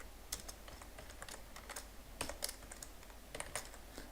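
C code is typed on a computer keyboard, a quiet run of close, irregular key clicks with a few brief pauses.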